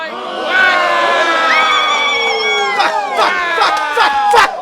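A lively comedy-show audience cheers and shouts with overlapping high voices and whoops, loud and close, building in bursts toward the end.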